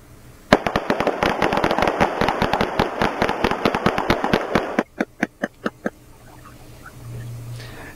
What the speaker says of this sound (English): 30 rounds were fired in just about 6 seconds